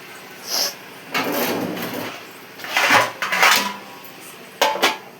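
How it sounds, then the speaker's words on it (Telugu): A metal lid clatters onto a pan of frying broad beans. Several distinct clinks and scrapes of metal cookware come up close, with brief pauses between them. "చిక్కుడుకాయ ఫ్రై చేస్తున్నాను. కాస్త మగ్గ పెడదాం, మూత పెడదాం."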